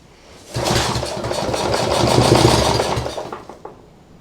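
A lawn mower engine fitted to a homemade outboard motor starts up and runs, a loud steady mechanical drone that holds for about three seconds before winding down and cutting out.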